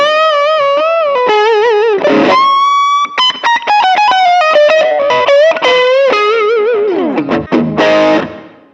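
Electric guitar played through a Vox A12 cabinet impulse response on a Nux Pulse IR loader, a loud, effects-heavy tone with ringing sustained notes, quick slides and choppy picked phrases, close and alone.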